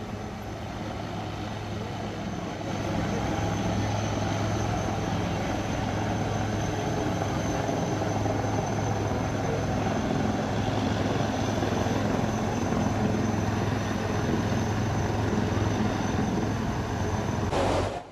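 A rescue helicopter drones steadily overhead during flooding, its low rotor thump and engine roar staying loud and constant from start to finish with no voices.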